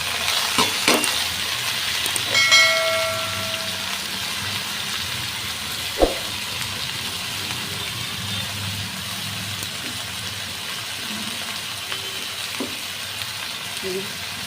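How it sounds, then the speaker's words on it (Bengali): Chopped snake gourd (chichinga) frying in a pan for a Bengali dish with fish roe, a steady loud sizzle with occasional stirring clinks and a single sharp knock. "এবার এই চিচিঙ্গা কোটাটা আমি এর মধ্যে দিয়ে দিলাম।"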